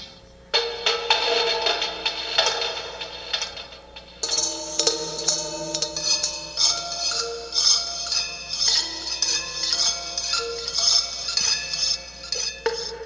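Metallic plucked long strings on a homemade instrument ring out with bright, shimmering, bell-like tones, a series of strums and plinks with lingering reverb-like decay.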